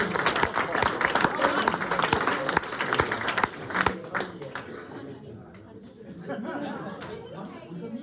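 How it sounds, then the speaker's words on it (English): Audience applause and chatter fill a lecture hall at MIT, dense clapping for several seconds that thins toward the end. "let's give him a round of applause"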